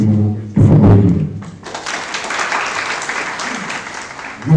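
Audience at a university games launch ceremony applauds a football team after a brief loud thump, a broad wash of clapping that swells then settles to a moderate, steady level.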